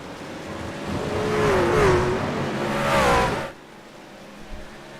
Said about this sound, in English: You can hear the shifting and the higher revs.